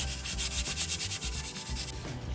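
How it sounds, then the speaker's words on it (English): Sandpaper rubs back and forth over a wooden dresser in quick, rhythmic strokes, a steady scratchy rasp heard up close with no talking. "This took a couple days of very patient and very detailed hand sanding"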